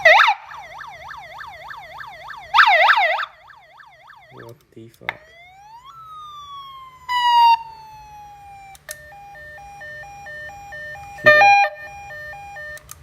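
Electronic aftermarket siren installed on a Toyota HiLux, cycling through several tones, wailing sweeps, a rising yelp and a stepped warble, with brief gaps and a short exclamation from a voice.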